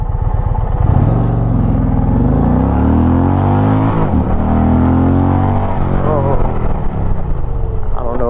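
An Indian Challenger motorcycle launching hard and accelerating to 60 mph, its engine roaring loud and close as revs climb, break briefly at a gear change, then climb again, with a voice speaking over it.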